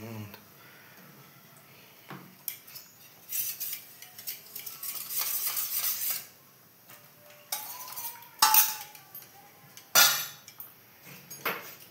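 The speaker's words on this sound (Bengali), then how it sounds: "এটা আমি আস্তে আস্তে করে মিশ্রণটাকে ঘোরাবো। সমানে নাড়তে হবে" A spoon stirs custard mixture in a pot, making intermittent scraping swirls and sharp metallic clinks against the pan, with quiet gaps between the bursts.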